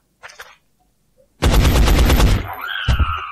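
A loud burst of rapid automatic gunfire from the video game X-COM Enemy Unknown rattles for about a second after a few faint clicks, then trails off into a ringing, whooshing tail.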